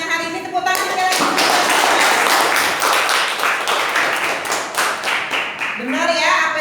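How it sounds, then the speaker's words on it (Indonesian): A school class clapping hands together, a loud burst of many palms that starts after a teacher's voice, swells into steady clapping, then tapers as speech resumes. "Tepuk tangan sekali lagi."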